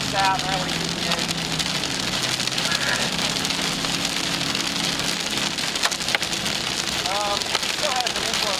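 Heavy rain and hail pound down in a dense, continuous roar during a severe storm on a western Oklahoma highway, with voices talking faintly underneath.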